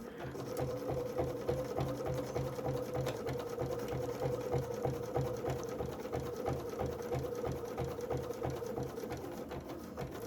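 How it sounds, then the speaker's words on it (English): Sewing machine with a ruler foot running steadily through fabric while a cozy is stitched, a continuous close, fairly loud mechanical whir with a rapid even stitching rhythm and no pauses. "I'm going to put my needle back in the down position, lift my ruler foot, and pivot this"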